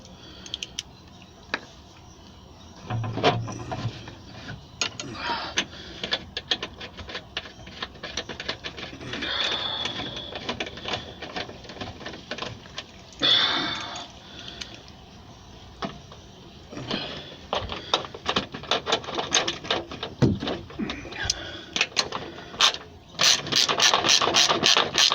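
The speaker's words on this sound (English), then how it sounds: "let's just put these bolts back on so this shit doesn't fucking move" Bolts being fastened back onto a water heater: long stretches of rapid ratcheting clicks and metallic rattles, loud and close, broken by brief pauses and clanks.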